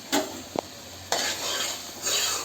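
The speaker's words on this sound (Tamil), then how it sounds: "இப்போது தக்காளி, வெங்காயம் எல்லாம் நல்லா வதங்கி வரட்டும்" Tomatoes and onions with garlic paste sauté in a covered pan, giving a soft steady sizzle broken by a few sharp clinks of a spoon or lid and a brief scrape, heard close with no talk.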